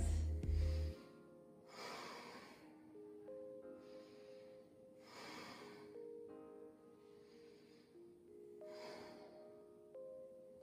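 Slow, deep breathing during a yoga session, with roughly three long airy inhale-exhale cycles spaced evenly over soft background music, the breaths near and moderately loud.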